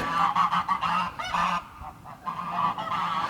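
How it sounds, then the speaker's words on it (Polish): A flock of geese of an old conservation breed honks nearby in bursts, harsh nasal calls overlapping, with a short lull before the honking picks up again. "To są gęsi nasze, stare zachowawcze, że tak powiem."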